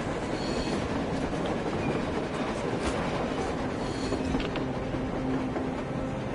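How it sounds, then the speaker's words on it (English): A train rolls past on the surface during a blizzard in a video game, a dense continuous rumble and rattle of wheels and wagons with faint squeals, all wrapped in steady wind noise. "A damn train on the surface!"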